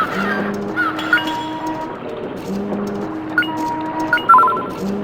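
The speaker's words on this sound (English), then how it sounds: "But we hear some seagulls squawking," Seagulls squawking in the Grandia video game, repeated short honking cries in a steady pattern over game music, with no talking.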